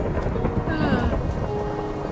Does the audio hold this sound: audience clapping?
no